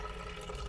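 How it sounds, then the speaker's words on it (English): Water is poured back into a bottle, a brief, faint trickling splash with a soft liquid gurgle. "I'm throwing all the water back in a bottle"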